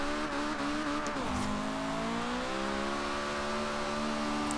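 A light Honda CRX built for drifting revs hard in the rain in Forza Horizon 2. Its engine note sweeps up steadily, drops sharply around a shift, then climbs again, loud and continuous with no talk.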